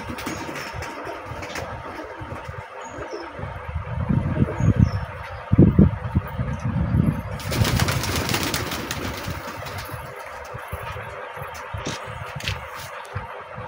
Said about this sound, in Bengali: আর এক জোড়া পায়রা দেখাবো, তার আগে কিছু পায়রা উঠছে দেখাচ্ছি।